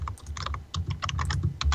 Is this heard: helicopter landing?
no